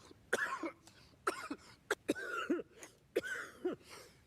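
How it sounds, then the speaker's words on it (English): A person coughs in short, dry bursts, about six or seven separate coughs with brief pauses between, close and fairly loud with no talking. "Cough, cough. Cough."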